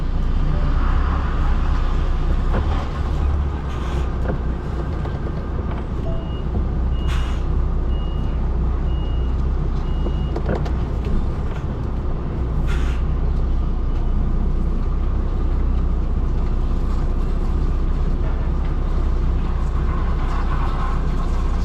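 Truck making a tight spin in a dock yard at Tilbury Docks, with a loud steady engine rumble throughout, repeated reversing beeps and a few short hisses.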